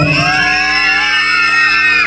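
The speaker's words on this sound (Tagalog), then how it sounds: "Parinig po na ng isang malakas na palakpakan. Ganun. Malakas na hiyawan." A crowd whooping and yelling loudly together, a sustained cheer that stays dense and full for its whole length with no single voice standing out.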